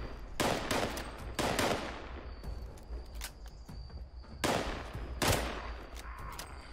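Gunfire in Fallout 76 comes in several sharp, loud bursts of rapid shots separated by brief quieter gaps, with scattered single cracks in between and no voices.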